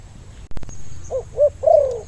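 A sharp click, then a spotted dove's soft cooing: two short coos followed by a longer drawn-out one, close by in a quiet setting.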